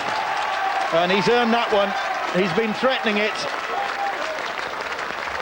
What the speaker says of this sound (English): And a round of applause from his coach